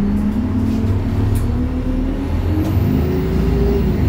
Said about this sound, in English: watch the sound on this bus in a minute